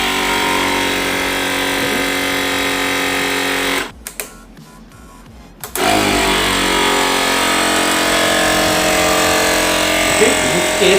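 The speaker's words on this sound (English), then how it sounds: "So now I am turning the compressor on" An air compressor drives a pneumatic bumper car on an Arduino anti-collision project, giving off a loud steady mechanical buzz that drops away briefly for about two seconds before resuming just as strong.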